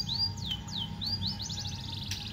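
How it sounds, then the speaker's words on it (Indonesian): White-rumped shama and canary chirping on a morning, with repeated clear whistled sweeps followed by a rapid twittering trill, close and steady over a faint background hum. "Ada burung murai batu dan burung kenari."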